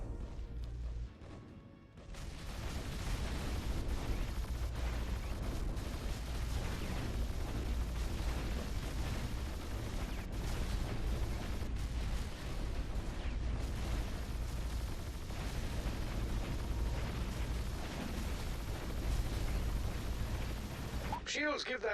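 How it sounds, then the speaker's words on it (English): Cannons firing at a tank in the Defense Grid 2 tower defense game produce dense, continuous booming and crackling blasts that run almost nonstop and sound loud and close, with speech mixed in. "5 cannons pounded into him is going to burn through most of that."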